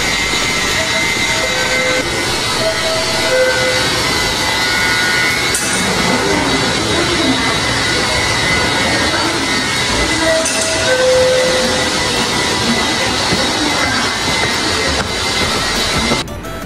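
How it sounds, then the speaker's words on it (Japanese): The Doctor Yellow Shinkansen inspection train passes through Nishi-Akashi Station with a loud, continuous roaring rush that holds steady for the whole stretch, with faint whining tones layered over the rumble. "今回はね、西明石駅の新幹線ドクターイエローをね、撮りました"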